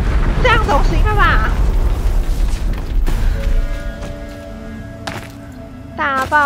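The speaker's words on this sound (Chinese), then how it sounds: "大爆炸！ 大爆炸！" A big explosion goes off in the video game Horizon Zero Dawn, a deep booming rumble that quickly decays, with excited voices talking over it.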